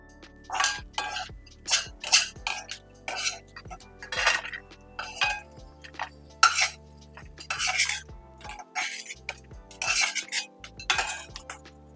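Fennel and poppy seed paste scraped from a grinder jar into a bowl, a run of short metallic scrapes and clinks in an irregular rhythm, close and fairly quiet, with no talk.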